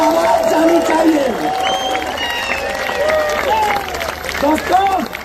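A crowd at a Dream Day speech event applauds loudly, with cheering and excited shouting mixed through a continuous wash of clapping.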